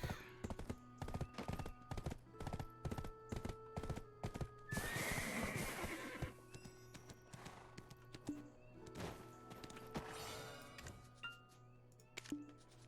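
Steady rhythmic clip-clop of hooves runs throughout, with a loud horse whinny in the middle, over a constant low hum and ambience in Black Desert Online.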